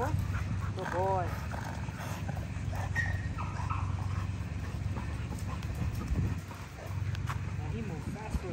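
A big dog grunting during breeding, with low rumbling grunts and a few whimpers amid shuffling movement, close by, while people talk over it.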